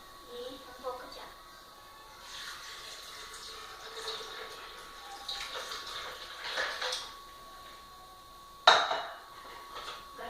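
Water is poured into a blender jar already holding ice, little juices and cereal, a soft splashing wash over a couple of seconds, ending with a sharp clatter of the jar or lid.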